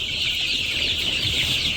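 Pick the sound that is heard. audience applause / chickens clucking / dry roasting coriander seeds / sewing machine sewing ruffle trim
chickens clucking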